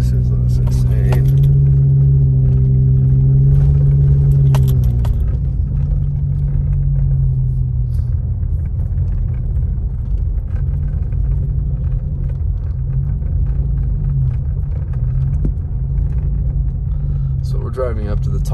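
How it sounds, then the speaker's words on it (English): Car driving off-road up a foggy forest mountain track behind Snow Summit at sunrise, a loud steady engine rumble with rattling from the cabin throughout, a person talking over it. "So we're driving up to the top of Snow Summit from behind here."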